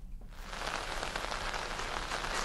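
Heavy rain pours down in Dehradun, a dense, steady hiss of drops on surfaces that swells in within the first half second and then stays loud and continuous.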